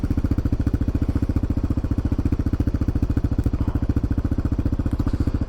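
A Kawasaki KLR motorcycle's single-cylinder engine idles close by in a rapid, even low thump with a slight mechanical rattle, steady and alone for several seconds.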